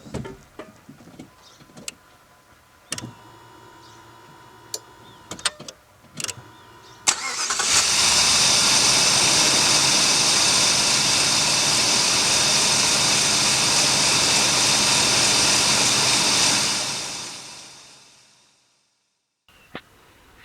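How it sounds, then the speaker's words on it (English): A Jeep damaged in a deer collision cranks and catches after some scattered clicks and thumps, then runs at a loud, steady roar for about ten seconds before winding down and cutting off into silence. "Time to see if we still got a motor, or if we got a motor, will it run?"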